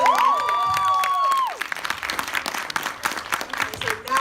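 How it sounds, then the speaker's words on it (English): Applause from an audience for a panel at a breakfast event, dense clapping starting right away while a voice finishes speaking, then continuing as a lively patter with scattered cheers. "Please give a round of applause for our wonderful panel."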